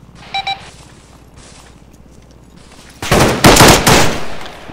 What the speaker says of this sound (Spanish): Recibimos fuego pesado de algún lugar.